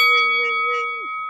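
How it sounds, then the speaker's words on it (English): A notification bell rings out as a single bright, clear ding with sustained tonal ringing that fades after about a second, loud and up close. "hit that notification bell"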